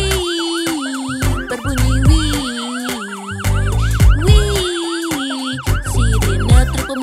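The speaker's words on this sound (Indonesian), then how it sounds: "Sirine truk pemadam kebakaran berbunyi wii." A cartoon fire truck siren wails in quick, repeating up-and-down sweeps, loud and continuous, layered over upbeat children's music with a bouncing bass line.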